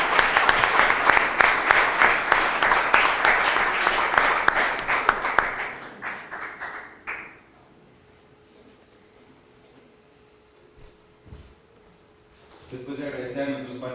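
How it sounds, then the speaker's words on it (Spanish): A crowd applauds at a Spanish-language religious colloquium, dense steady clapping for about five seconds that thins out and fades, followed by quiet room tone and a brief burst of other activity at the end. "Le agradecemos con un cálido aplauso."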